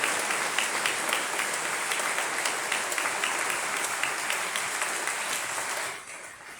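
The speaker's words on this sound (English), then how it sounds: "Let's give them a round of applause" Sustained applause from a seated audience at a World War II museum ceremony honoring veterans, a dense, steady wash of many clapping hands that fades out near the end.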